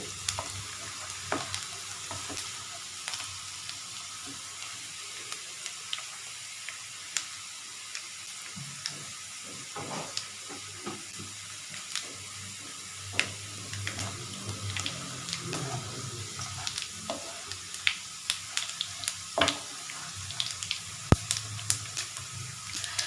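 Garlic frying in a pan for coccinia (kundru) fry, a steady low sizzle running throughout with scattered stirring clicks and scrapes, fairly quiet, with no talk.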